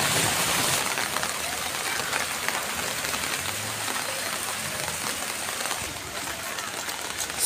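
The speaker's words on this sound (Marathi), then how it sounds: "त्या ठिकाणी आपण पाहू शकता जोरदार अशी पावसाची सर आलेली आहे।" Heavy rain shower pours onto a road in Nalasopara, a steady dense hiss that stays loud and constant throughout with no talking.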